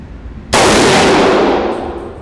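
Bullet from a PTR Industries G3 clone rifle striking a steel target: one loud, sudden crack followed by a long ringing wash that slowly fades.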